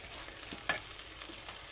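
Cut vegetable pieces stirred in a hot pan, giving a steady low sizzle with one brief scrape near the middle and no voices.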